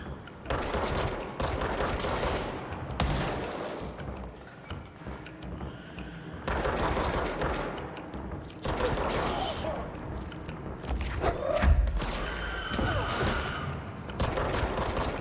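Enemy gunfire in the Control video game comes as repeated bursts of rapid automatic shots and fusillades, loud and near, separated by short gaps, with a voice talking between the volleys.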